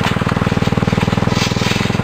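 Small engine of a homemade ride-on car built from scrap parts, running loud and close with a rapid steady chugging pulse and a rough buzzing tone, no other sounds.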